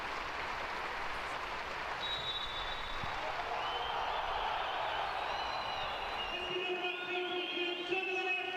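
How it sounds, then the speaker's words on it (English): A large football crowd at a Sunderland versus Marseille match applauds steadily as both teams join a minute's tribute, a dense, continuous wash of clapping from a big stadium that holds at an even level throughout. "You see both the teams there giving a round of applause there."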